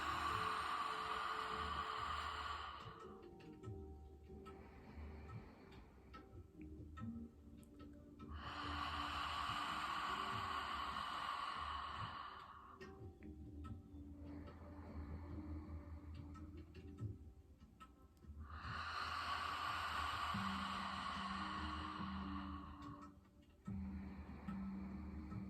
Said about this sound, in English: In through the nose, and then breathe out of the mouth.